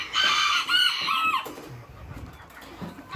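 Miniature chickens at a breeding ranch make shrill, crow-like calls for the first second and a half, then quieter scattered clucks and rustling follow nearby.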